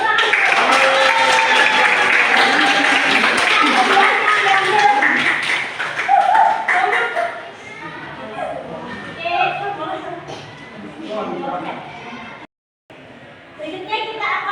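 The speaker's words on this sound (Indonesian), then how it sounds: "Tepuk tangan." A classroom of students breaks into dense, loud applause for the winning presentation group, fading after about six seconds into scattered claps and children's chatter.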